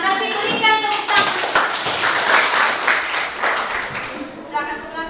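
Classroom audience of teacher-training students clapping hands together, a dense steady patter of many hands lasting throughout, fairly loud and close with faint voices mixed in.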